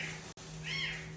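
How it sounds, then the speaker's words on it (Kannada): A kitten meows once, faint and distant from somewhere behind a house, a short rising cry over a steady background hum. "ನಮ್ಮ ಮನೆ ಹಿಂದೆ ಎಲ್ಲೋ ಬೆಕ್ಕು ಮರಿ ಆಗೈತೆ"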